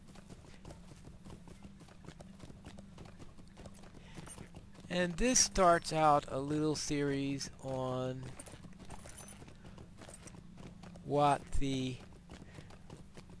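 A rented horse's hooves clip-clop steadily in a video game, a close, even rhythm of footfalls running throughout while someone talks over it in stretches.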